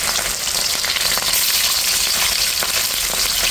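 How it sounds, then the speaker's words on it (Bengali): Six pieces of marinated fish frying in hot oil, a dense, steady, close sizzle with crackling throughout. "এখানে আমি 6 পিস মাছ ভেজে নিচ্ছি"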